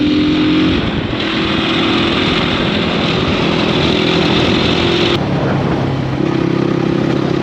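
A motorbike engine drones loud and close during a ride through Pokhara, its steady hum rising and dipping slightly with throttle changes over several seconds, with no talk.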